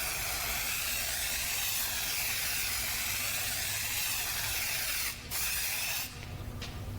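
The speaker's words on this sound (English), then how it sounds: "scanning spray is going to make it so much easier and so much better, give you clean data. So all you have to do is dust the surface." Scanning spray hisses steadily as it is dusted over a flange surface, a continuous close aerosol stream with brief pauses near the end.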